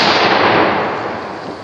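A Tannerite explosive target shot to blow up a pink trike, a loud close blast whose broad roaring burst decays over under two seconds.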